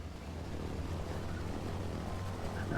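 Twin engines of a C-47 Skytrain in a flight simulator drone at a low, steady propeller hum as the plane taxis on the ground. Nearby and even throughout, with no voices.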